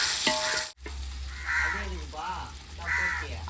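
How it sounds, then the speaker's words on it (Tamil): Tomatoes sauté in a pan, giving a continuous close sizzle and frying hiss with stirring. A person talks over it throughout, and a crow caws briefly in the background. "நான் தக்காளி போட்டுடுறேன் இதோ நல்லா வதங்கிடுச்சு"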